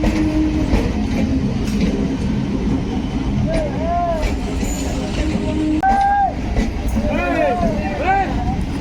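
A train pulls into Murshidabad railway station on freshly laid track, its steady heavy rumble and rhythmic wheel clatter running throughout while someone talks over it.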